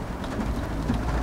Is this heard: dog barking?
no